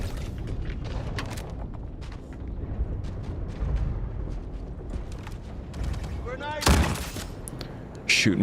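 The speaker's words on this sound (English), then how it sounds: "Shooting me through the walls is getting a little old" Gunfire in the space shooter Star Citizen, a fairly steady run of shots and booms lasting several seconds, with a louder burst near the end, heard under and between a player's voice.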